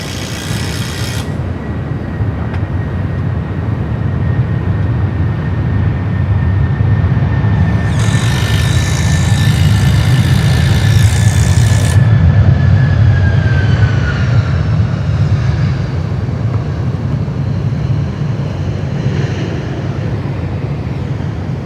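An aircraft on runway 16 right at Sydney Airport, a loud sustained roar of engines rumbling steadily through the whole stretch, heard from outside with no talk.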